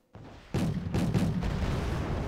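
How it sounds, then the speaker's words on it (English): An artillery smoke barrage lands in the strategy game Wargame Red Dragon. After a faint lead-in, a series of heavy booming impacts pile into a dense, sustained rumble. "Smoke barrage"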